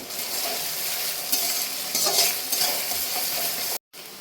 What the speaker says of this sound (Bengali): নেড়ে ছেড়ে একদম লাল লাল করে নিব।